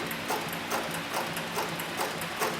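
An industrial leather sewing machine on a variable-speed servo motor runs at its slowest setting, stitching two layers of soft 4 to 5 ounce upholstery leather, with a steady mechanical clatter that repeats about twice a second.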